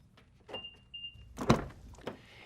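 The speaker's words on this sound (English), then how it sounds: "the vehicle automatically unlocks" Keyless door unlocking on a 2011-2012 Mitsubishi RVR: a faint brief whirr followed by a sharp mechanical thunk of the lock actuators, then a lighter click, close and quiet with no talking.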